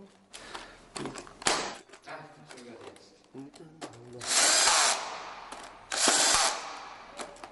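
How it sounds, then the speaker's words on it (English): A power driver screws a Siemens BD01 flexible junction unit onto a clamp terminal of a busbar trunking system, in short whirring bursts that stop and start between quieter handling noises. "The flexible junction unit can now be inserted and screwed to the removed clamp terminal."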